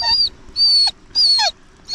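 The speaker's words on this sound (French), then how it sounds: "c'est un petit chien prêt à faire de l'urbex" A small dog whimpers in four high, thin whines that rise and fall in a steady rhythm, each separated by brief pauses, close and fairly loud.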